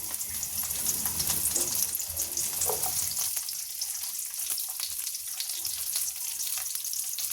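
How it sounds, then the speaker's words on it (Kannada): Sliced onions sizzle and fry in a few spoons of hot oil in a pan, a steady close crackling hiss with a few soft stirring scrapes, and no voices. "ಬಾಣಲಿಗೆ ಒಂದೆರಡರಿಂದ ಮೂರು ಸ್ಪೂನು ಎಣ್ಣೆ ಹಾಕಿದ್ದೀನಿ ಇದಕ್ಕೆ ಈರುಳ್ಳಿ ಹಾಕ್ತಾ ಇದ್ದೀನಿ"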